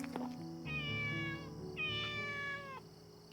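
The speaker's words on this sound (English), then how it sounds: "Small calico cat." A small calico cat in a video game lets out two drawn-out meows in a row, clear and close over a soft musical backdrop, with no talking.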